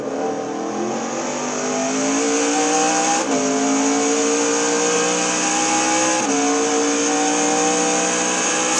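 A race car at 202 mph heads into the PlayStation chicane at Le Mans and downshifts toward second gear, its engine a loud, close, sustained high whine that drops sharply at each of two gear changes.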